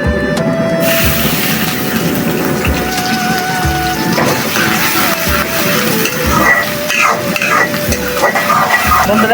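Dried chili, onion and garlic frying in hot mustard oil, a steady loud sizzle with occasional stirring clinks against the pan.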